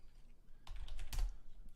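Someone types on a computer keyboard in a quick, quiet burst of clicking keystrokes lasting about a second, faint and close, with no talk over it.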